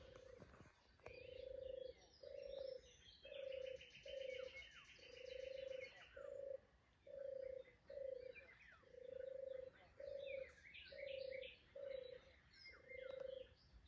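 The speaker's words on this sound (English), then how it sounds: "Birds and the frogs are well active today." Birds call at dawn beside a big river, with frogs active too: a steady run of evenly spaced low cooing notes, each about a second long, and faint chirps and tweets higher up, fairly quiet and distant.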